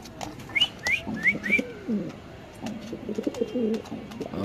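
Grizzle racer pigeons coo softly and repeatedly at close range, with a few brief whistly notes early on and low throaty cooing over background noise.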